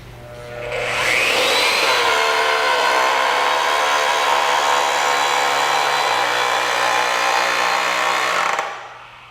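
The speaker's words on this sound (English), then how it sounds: "Press the trigger switch and hold until the pipe is bent to the desired angle." An AGP DB32 digital pipe bending machine bends a pipe, its motor winding up into a loud, steady whine that holds for about eight seconds before cutting off abruptly.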